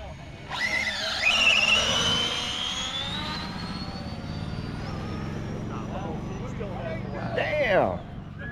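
Jet-powered RC car at a drag racing speed-run event, a loud rising jet whine and roar that sweeps up sharply, holds, then fades, with a second burst near the end and people talking.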